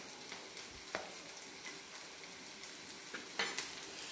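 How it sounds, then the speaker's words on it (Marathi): Onion frying in a pan gives a faint, steady sizzle, with occasional soft scrapes and clicks of a spoon stirring. "आता हा कांदा लाल करते."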